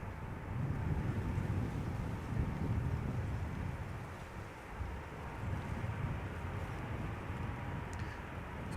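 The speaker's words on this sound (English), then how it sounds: "E2 Embraer to Dublin is spooling up" A KLM Embraer E2 jet spools up for takeoff at Schiphol, a steady low roar of engines rising under gusty wind, fairly distant and continuous.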